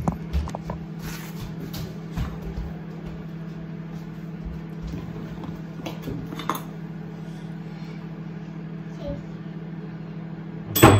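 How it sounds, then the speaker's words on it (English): A microwave oven heating porridge in a home kitchen, a steady low hum running throughout, dotted with light clinks of dishes and cutlery nearby and a sharp beep-like burst at the very end. "Initin ko lang yung microwave"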